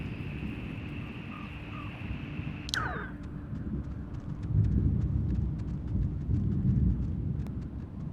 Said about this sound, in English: Is there like a storm?